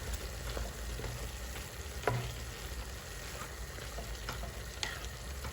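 Ground meat frying in a pan for a Filipino giniling dish, a steady crackling sizzle with occasional scrapes and stirs, close and continuous with no talking.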